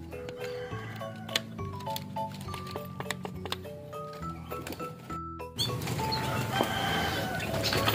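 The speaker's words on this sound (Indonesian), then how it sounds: "Nah guys, ini burung-burung merpati udah pada lapar ya." Hungry pigeons waiting for corn give soft scattered calls, ticks and wing flutters nearby, followed by a burst of louder flapping and shuffling.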